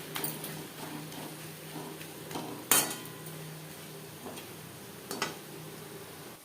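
Spatula scrapes and clinks in a pan as salt, turmeric and spice are mixed into onion and tomato, a few sharp metallic knocks standing out over a steady low background.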